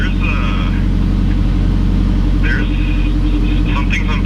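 Turbocharged 8th gen Honda Civic engine running steadily just after starting, a loud continuous idle rumble close by with voices talking over it.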